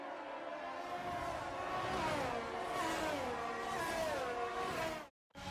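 Race cars in the F1 22 video game rolling around on a formation lap, a steady sustained engine drone with shifting harmonic pitch, loud and continuous, briefly cutting out near the end.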